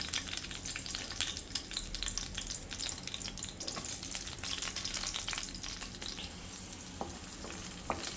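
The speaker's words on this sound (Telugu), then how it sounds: "సో ఇప్పుడైతే ఫస్ట్ గ్రీన్ చిల్లీ అయితే వేయించుకున్నాము." Green chillies fry in hot oil in a pan, a steady close crackling sizzle with sharp pops throughout, no voices.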